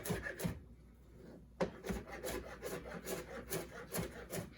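A kitchen knife coarsely chops a tight bundle of basil on a board, giving a close run of quick, soft, even thuds after a brief pause, with no voices.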